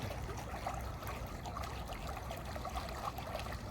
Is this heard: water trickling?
yes